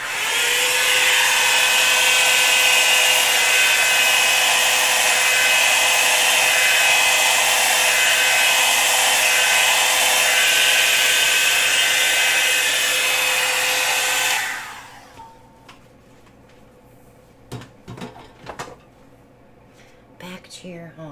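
A hair dryer blows loudly and steadily for about fifteen seconds while drying work on a spinner or turntable, then cuts off, leaving a few faint handling knocks.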